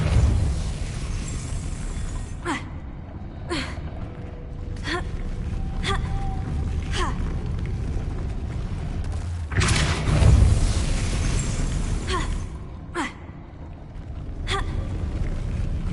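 Depulso force spell cast repeatedly in Hogwarts Legacy, a series of sharp whooshing impacts at irregular intervals over a steady low rumbling game backdrop, with one heavier boom midway.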